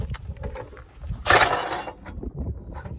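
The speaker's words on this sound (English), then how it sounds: "the bottom hole has to be drilled out to a 5/16 on the bottom of the rocker panel of the truck" Power drill boring a 5/16 hole into the bottom of a truck rocker panel, a short burst of grinding whine lasting under a second amid quiet low handling noises.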